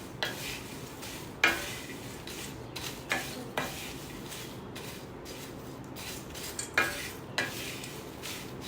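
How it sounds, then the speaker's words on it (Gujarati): Khakhra chevda being stirred with chaat masala and salt, dry crisp pieces scraping and rustling in a steady rhythm, with several sharper clatters of a spoon against the bowl, close and alone. "અને હવે આ બધા જ મસાલાને સરસ રીતે આપણે મિક્સ કરી લઈશું."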